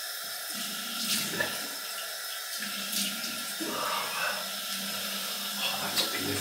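Cold water runs steadily from a tap into a sink during wet shaving, a soft close splashing stream that carries on throughout.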